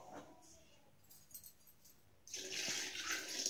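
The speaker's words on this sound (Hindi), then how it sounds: "गरम पानी जो मैंने करके रखा था उसे मैं इस खिचड़ी में डाल दी हूँ" Hot water pours into a pot of khichdi, starting as a sudden steady splashing rush after a quiet stretch of faint kitchen clinks.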